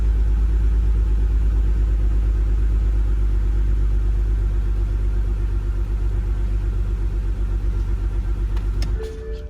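A car engine with a misfire on cylinder 6 runs steadily at close range, a loud, continuous low rumble that drops away sharply near the end; no voices.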